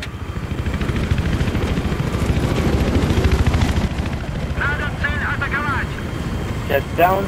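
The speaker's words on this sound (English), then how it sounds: "Chopper's up." A helicopter in a multiplayer video game match, heard as a loud, steady rotor chop that throbs throughout, with a voice talking over it toward the end.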